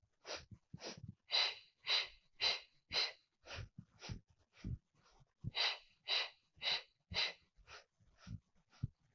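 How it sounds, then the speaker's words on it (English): Someone breathes hard and close during a Pilates mat workout, with a steady series of forceful, rhythmic inhales and exhales. Each breath is a short airy burst, and faint thumps of movement sit underneath. "We inhale and exhale."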